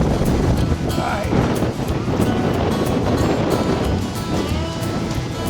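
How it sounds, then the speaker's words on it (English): Strong hurricane gusts during Hurricane Ian roar loudly and continuously, buffeting the microphone with heavy rushing noise and churning water underneath. "every time I go outside, I get chased back in with these wind gusts"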